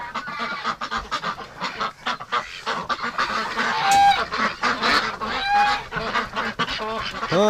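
Ducks and geese honk and quack in a busy, overlapping chorus, loud and close, with rapid repeated calls throughout and no talking.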